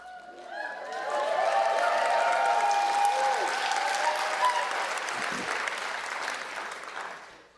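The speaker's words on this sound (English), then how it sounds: "You are clapping as if you could reach up and touch us." Sustained applause from a live audience, a dense wash of many hands clapping that swells quickly, holds steady for several seconds, then tapers off at the end.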